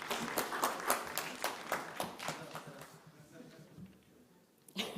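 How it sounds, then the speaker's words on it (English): Scattered audience clapping at a Dubai technology conference for an award presenter, a few loud individual claps standing out before the crowd thins out and fades toward the end. "A round of applause, please."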